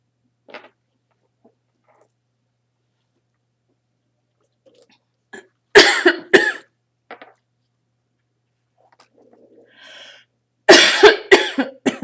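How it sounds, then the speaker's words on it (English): Two bursts of harsh coughing, the second longer and louder, separated by near silence with a few faint clicks and small noises. "here comes the cough"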